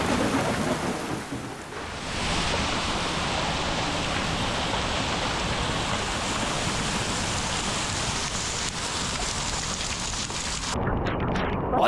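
Heavy rain and hail pour down at a mountain lake, a dense, loud, steady roar of water and pelting ice with runoff like a small waterfall, with no voices.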